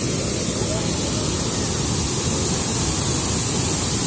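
Roaring water at the Cachoeira da Fumaça waterfall on an ecological trail in Cascata, Rio de Janeiro state: a loud, unbroken broadband rush that fills the whole clip with steady force.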